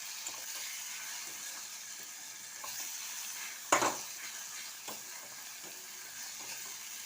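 Chili, turmeric and coriander powder sautéing in a pan for a Bengali prawn and potato curry: a steady soft sizzle with quiet stirring scrapes, one louder clatter midway, no voices.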